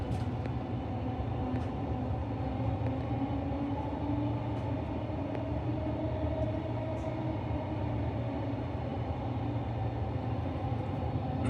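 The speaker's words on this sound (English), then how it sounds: "This is a Doomben train, stopping all stations." A Doomben line commuter train in Brisbane rumbles along between stations, a steady, continuous rolling drone heard from inside the carriage, with faint clicks over the tracks.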